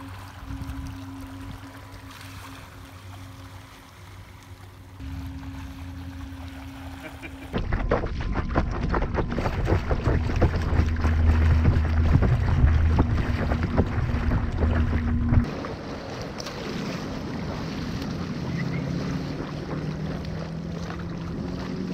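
An inflatable paddle board driven by a fin-mounted motor runs on open water, with a steady motor drone, water rushing and wind buffeting the microphone; the sound shifts and grows louder midway, then settles.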